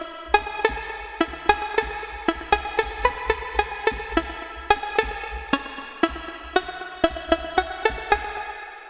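Bright, short synth plucks built in Ableton's Analog synth play a quick rhythmic melodic pattern, each note striking sharply and decaying fast over a soft low pulse, alone and fairly loud.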